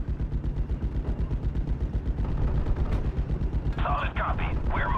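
Artillery and gunfire in the Normandy 1944 strategy game Steel Division, a rapid run of booming shots and thuds with a loud burst near the end, mixed under radio-style voices.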